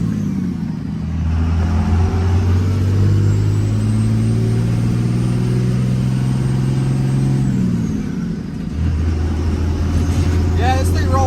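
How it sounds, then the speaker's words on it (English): A small truck's engine hums loudly from inside the cab while driving, a steady low drone that climbs in pitch as it accelerates, dips briefly near the end, then settles back to a steady cruise. "we are driving a little baby truck"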